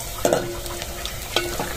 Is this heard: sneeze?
no